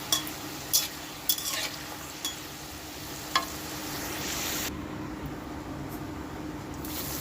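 Nimki pastries fry in hot oil with a steady close sizzle and bubbling, broken by a few sharp crackles and stirring clinks, with no voices.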